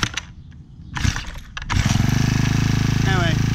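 A lawn mower is started with a few sputters and coughs, then catches and settles into a loud, steady, rhythmic engine drone, close by, with a person speaking briefly during the start.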